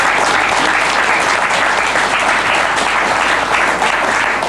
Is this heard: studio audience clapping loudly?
yes